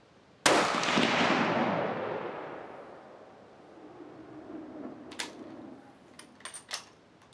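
A single loud rifle shot from a Tikka T3 Lite Battue chambered in .300 WSM firing hot 200-grain Nosler AccuBond loads rings out sharply outdoors, its boom decaying over a few seconds before some faint clicks and handling noises follow.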